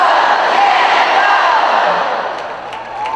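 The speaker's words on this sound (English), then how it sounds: "How about if we all give one loud shout out cheer, Go Jenna Go, on the count of 3." A large audience at a school district general session shouting a loud group cheer together, a broad roaring mass of voices that holds steady for a few seconds before it thins slightly.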